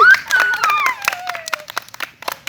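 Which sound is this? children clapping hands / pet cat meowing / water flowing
children clapping hands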